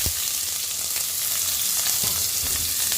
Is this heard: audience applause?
no